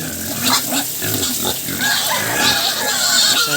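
Pigs grunt and oink loudly and continuously, close by, with overlapping snorts and a noisy background.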